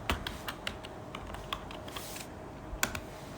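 Typing on a computer keyboard while entering MATLAB syntax, with irregular clicking keystrokes and a quick cluster of taps near the end, close and crisp under faint room noise.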